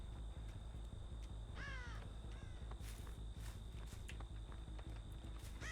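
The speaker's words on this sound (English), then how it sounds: "but there's a crow there still, so probably not." A crow caws in a video game, giving a few harsh calls at moderate distance over a steady low ambient hum, with faint footsteps and no talk.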